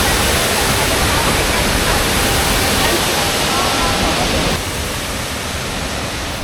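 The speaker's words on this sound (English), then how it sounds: "Let's go take a look at this waterfall." Waterfall at a hiking spot in Taipei, a loud, steady broadband rush of falling water that fills the scene near and constant, easing slightly partway through.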